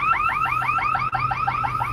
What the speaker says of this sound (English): there's alarms going off everywhere